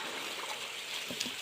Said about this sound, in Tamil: தண்ணி அருமையாக வருது